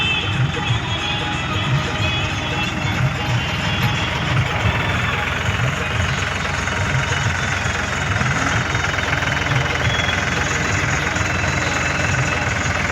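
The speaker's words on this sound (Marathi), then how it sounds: "लेवलचे ट्रॅक्टर चालू आहे गाडी" A tractor engine runs steadily while levelling a farm field, a continuous low rumbling drone with a faint knocking pulse, close and loud throughout with no pauses.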